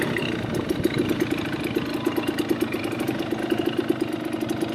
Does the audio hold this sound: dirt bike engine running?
yes